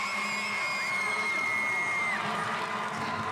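Crowd at a high school boys basketball section championship game roaring and cheering steadily, a dense continuous wash of yells and whoops with high whistles cutting through.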